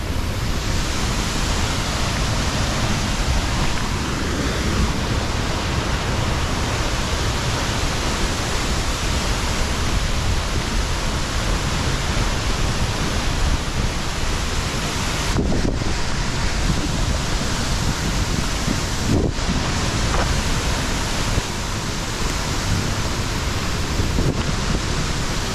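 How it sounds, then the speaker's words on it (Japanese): Nagae waterfall in Satsuma, Kagoshima, crashes into its plunge pool, a loud, dense, unbroken roar of falling water and spray heard up close, steady for the whole stretch with no talk. "水しぶきもすごい。"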